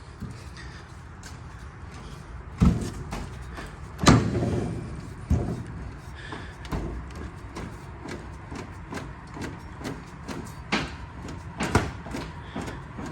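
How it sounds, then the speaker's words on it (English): A baler door is opened against hydraulic ram pressure, producing a series of loud metallic knocks, clunks and bangs in an irregular rhythm, close by. "All right, so now we're going to open up our baler door."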